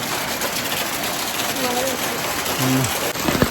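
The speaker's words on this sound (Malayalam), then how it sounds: "അയ്യോ എന്താ മഴ അയ്യോ മഴയെത്തി" Heavy rain pours down steadily in a broad, constant wash, drumming on surfaces close by, while people's voices break in briefly toward the end.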